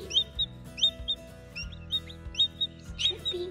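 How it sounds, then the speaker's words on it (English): A newly hatched chick peeps in a steady series of high, short chirps, close and fairly clear over a low background hum, with no talking. "He's chirping."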